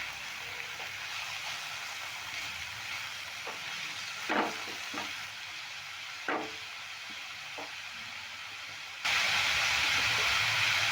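Vegetables with salt and turmeric fry in a pan under a low, constant sizzle, with a few brief stirring scrapes and a louder hiss toward the end, quiet and close with no voices.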